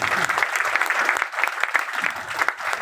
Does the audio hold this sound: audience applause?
yes